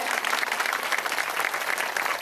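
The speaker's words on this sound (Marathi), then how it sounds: "आपण सर्वांनी जोरदार टाळ्या वाजून स्वागत करायचं आहे" An audience at a religious gathering for a visiting guru claps in steady, dense applause, loud and continuous throughout, with no break or talk.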